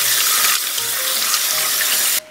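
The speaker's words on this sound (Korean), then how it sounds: "잘못 씻으면 풋내가 나니까 살살 흔들어서 헹굼을 해주세요." Young radish greens are gently shaken and rinsed in water, a loud steady rush of running, splashing water heard close up, alone, ending abruptly after about two seconds.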